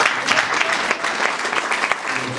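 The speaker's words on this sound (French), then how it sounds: "C'est vrai, les applaudissements quand même" Audience applause after a slam poem performance, a short, fairly loud round of clapping with clear individual claps, no voices over it.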